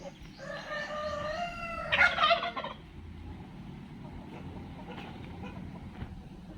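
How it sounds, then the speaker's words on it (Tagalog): Male turkeys gobble in a loud, rapid, warbling burst nearby, peaking briefly before dropping to a quieter background with faint farmyard noise and no speech. "Kaganda tignan yung mga pabo natin pag na ganyan"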